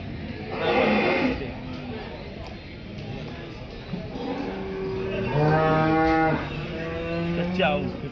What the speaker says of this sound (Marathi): एकदम शांत गाई आहे